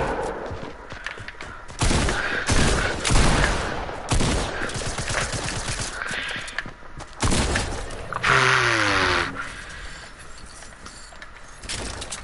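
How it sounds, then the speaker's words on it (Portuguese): Rapid bursts of video game gunfire crackle across the clip, sharp volleys with short gaps, loud and close, with faint game sounds between them. "foi tantos tiros ali"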